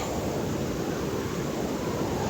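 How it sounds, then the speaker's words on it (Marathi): A steady, loud roar of a rushing, flooded river during torrential monsoon rain in Konkan, continuous and unbroken throughout, with no voices. "आवाज बघा पाण्याचा"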